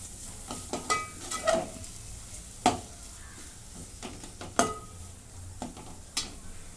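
Ground onion-garlic masala with turmeric, garam masala and coriander-cumin powder sautéing in a pan, with a soft background sizzle broken by sharp scraping stirs and metallic clinks of a spoon against the pan.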